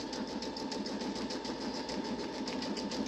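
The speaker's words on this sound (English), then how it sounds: "Press start. It's only going to stitch one." Brother SE 625 embroidery sewing machine running a stitch, a close, steady mechanical whir with rapid rhythmic ticking that continues throughout.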